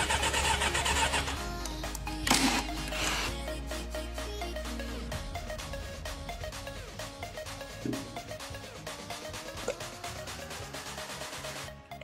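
An old Honda CB400 motorcycle, revived after years of sitting, cranks and sputters during a test start, with a low engine rumble early on and irregular mechanical clatter that stays moderately loud throughout.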